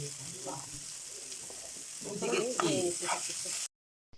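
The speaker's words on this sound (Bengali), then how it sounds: "ভালোভাবে মিক্স করে নেব যেন হলুদ আর লবণ সবজির গায়ে ভালোভাবে লেগে যায়" Vegetables stirring in a pan with salt and turmeric while frying for vegetable noodles, a steady close sizzle with scraping stirs that grows busier toward the end before cutting out.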